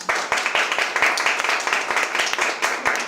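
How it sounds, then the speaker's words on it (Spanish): A church congregation clapping for the children, quick uneven handclaps close by and fairly loud, forming a short burst of applause. "¿Por qué no le damos un aplauso a los niños?"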